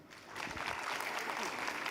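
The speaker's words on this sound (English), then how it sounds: "I think he deserves one great round of applause." Applause breaks out at a career conclave and expo session as a college director is welcomed on stage, swelling after a brief quiet start into steady, moderately loud clapping.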